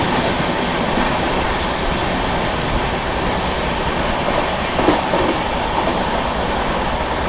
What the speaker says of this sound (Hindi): चलिए फरीदाबाद न्यू टाउन का स्किप दिखाते हैं।